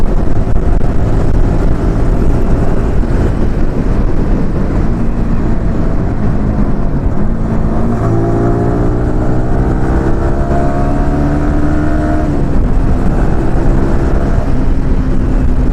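A Yamaha R15 V4 motorcycle ridden fast, its engine note droning loud and steady, with the pitch climbing and shifting as it accelerates through the gears. Constant wind rush runs beneath it.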